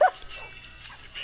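Minecraft dogs yipping in a video game, one short loud bark at the start followed by faint whimpering tones, no talking.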